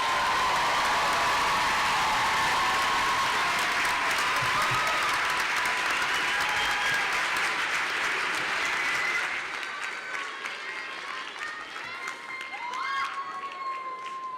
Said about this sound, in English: Please honor all of the master's degree awardees with your applause.